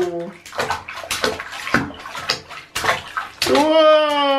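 A dog splashes in bathtub water, with short bursts of sloshing close by, mixed with an adult's excited speech and ending in a sustained high squeal.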